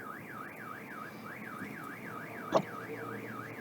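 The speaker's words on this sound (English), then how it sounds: "Suddenly, an obnoxious noise breaks the silence. Is that a car alarm?" A car alarm in the video game DDLC Vigilante wails steadily in a rising-falling siren pattern, moderately quiet and continuous, with a brief click partway through.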